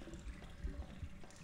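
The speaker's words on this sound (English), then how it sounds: "Nasty chemical water" Toxic chemical water runs and splashes in the Portal video game, a soft, steady liquid flow at low level with a few brief gurgling surges.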